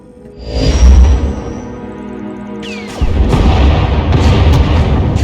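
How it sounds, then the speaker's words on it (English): A Thranta-class warship firing turbolasers and missiles in the video game Star Wars: The Old Republic: a deep booming blast swells and fades, then a sharp whooshing shot lands around three seconds in, followed by sustained rumbling fire. "Enemy is firing. Turbo lasers, missiles, and what looks like transport pods."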